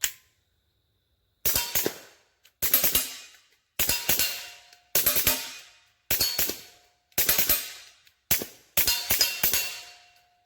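A Kel-Tec P17 pistol fires Aguila Subsonic ammunition in a steady string of about seven or eight loud, sharp reports, some in quick doubles, each followed by a brief ringing tail and quiet gaps.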